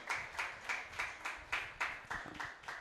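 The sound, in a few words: church congregation clapping for baptism candidates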